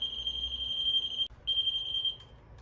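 Light Keeper Pro tester on a string of Christmas lights emits a steady high-pitched electronic beep, cutting out briefly, resuming, then stopping for good near the end; close and clear.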